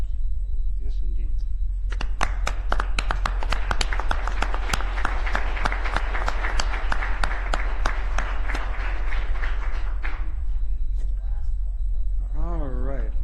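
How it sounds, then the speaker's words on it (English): Applause from the audience at a city council meeting, a dense patter of claps building over a steady low hum and fading out after about ten seconds, followed by a brief voice. "Shall we give him a round of applause?"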